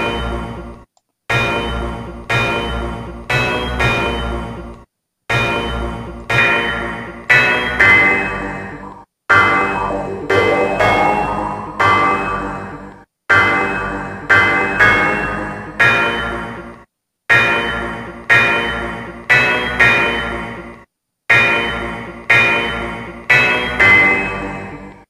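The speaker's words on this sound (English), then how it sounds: "You hear how loud that bell sound" A repeated bell tone in FL Studio being swept with a parametric EQ, struck about every second in bursts of ringing hits that decay quickly, its brightness shifting as the filter moves, with no talking.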